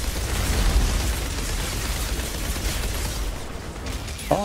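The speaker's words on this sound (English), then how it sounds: "I can't see anything besides explosions and bullets flying." Explosions and gunfire rage continuously in the shooter video game Outriders, a dense loud roar of blasts and shots with no break, ending in a short sharp burst.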